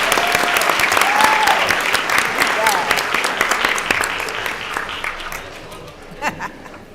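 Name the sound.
audience applause for students and staff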